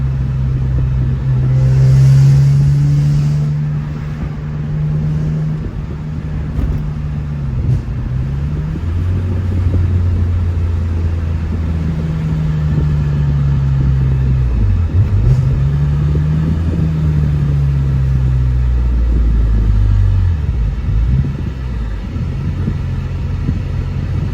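A supercharged 2004 BMW E46 M3 engine with active headers and a Larini exhaust idles with a deep rumble, then revs up and down several times, loud and close.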